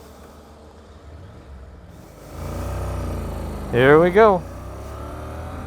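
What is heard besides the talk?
Honda NC 750X motorcycle accelerating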